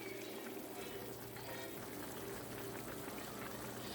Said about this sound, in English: So I'm going to let this simmer for maybe a good 15 minutes